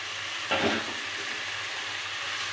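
Spice paste sizzling in a pan for a jackfruit and prawn curry, a steady soft frying hiss with one brief louder burst of stirring near the start, no voices.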